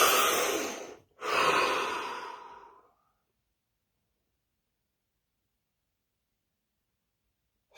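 A single deep breath taken close, a long airy inhale, a brief pause, then a slow audible exhale that fades into silence for the remaining seconds.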